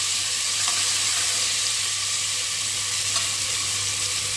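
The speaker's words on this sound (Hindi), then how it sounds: "अब मैंने इसके अंदर ये अदरक लहसुन का पेस्ट डालना है, आँच मीडियम रखनी है, तेज़ आँच नहीं रखनी है और उसको भी मैंने भून लेना है" Ginger garlic paste frying over a medium flame for prawn pulao, giving a steady, even sizzle with faint stirring clinks, close and continuous, with no talking.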